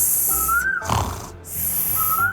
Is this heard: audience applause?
no